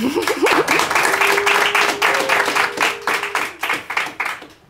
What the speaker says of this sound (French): vous êtes applaudi et hué, Patrick?